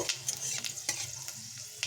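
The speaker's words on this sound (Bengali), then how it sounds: "হাফ টিস্পুন পাঁচফোড়ন দিয়ে দিতাম পাঁচফোড়নটা ভালো করে" Panch phoron spices fry in oil in a pan, with a soft continuous sizzle and scattered light crackles and stirring taps, quiet and close.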